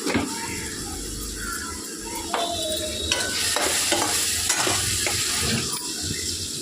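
Chole masala with red chilli and kasuri methi fries in a pan, a soft continuous sizzle broken by several scraping stirs of a spoon against the metal, close and moderately quiet.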